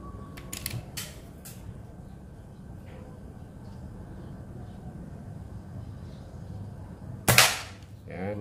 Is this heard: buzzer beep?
no